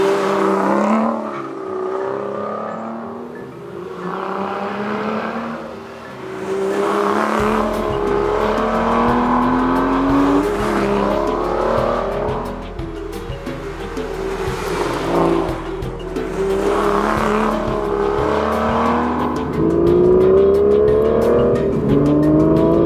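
A 2013 Aston Martin V12 Vantage with a manual gearbox is driven hard on canyon roads, its engine repeatedly revving up through the gears with loud, rising pulls and brief lifts between shifts.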